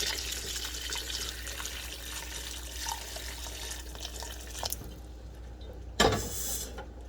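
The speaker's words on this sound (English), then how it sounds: "Let's go ahead and add some more water in here." Water poured into a pot of Caribbean-style oxtail as it cooks, a steady running splash that fills the first five seconds, then a brief louder clatter near the end.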